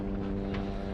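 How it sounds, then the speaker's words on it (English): A motorboat engine hums steadily on the water, a continuous low drone with wind buffeting the microphone throughout. "That's a boat that's been here before,"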